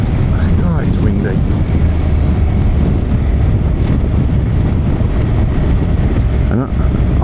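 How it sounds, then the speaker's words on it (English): Heavy, constant wind buffeting the microphone while riding a Honda NC750X motorcycle, a loud roaring rush filling the whole clip with low rumble. "God, it's windy."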